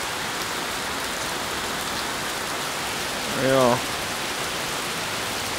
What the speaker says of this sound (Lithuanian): Dar tas lietutis čia neaišku kiek duos.